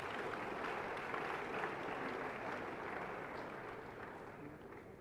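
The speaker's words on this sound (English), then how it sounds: "Clap for yourself." A conference hall of university students at a youth entrepreneurship event clapping together, a sustained dense wash of applause that holds steady and then slowly eases off.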